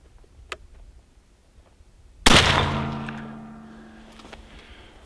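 A muzzleloader rifle loaded with an 80 grain powder charge fires a single sharp, loud shot that booms and decays into a long echoing rumble, with faint outdoor quiet before it.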